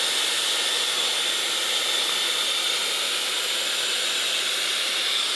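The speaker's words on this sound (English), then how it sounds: "I'm gonna turn this on, highest heat setting, highest speed." A Dyson Airwrap hair dryer runs on its highest heat and speed setting, giving a loud, steady, close-up airy hiss that never lets up, with no voices.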